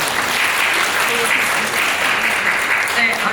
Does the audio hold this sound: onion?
no